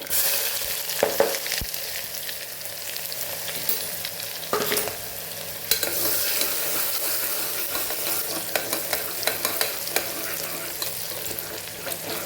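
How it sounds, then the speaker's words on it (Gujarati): Chopped onion sautéing in hot oil with popped mustard seeds, cumin and asafoetida in a pan for a cabbage-potato curry, a steady close sizzle with clinks of stirring throughout. "ડુંગળીનો સેજ કલર બદલાય ત્યાં સુધી આપણે એને સાતળવાની છે"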